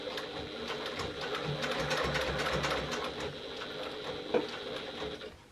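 A sewing machine stitches around the corner of a bag lining, a soft, steady rapid whirring hum that keeps running without a break, with one small click near the end.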